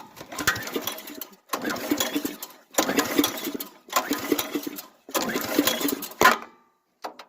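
Five rough, even cranking bursts of about a second each from a 7.5 horsepower Frontier OS23 engine being pull-started with the choke on, separated by short pauses, with the engine never catching.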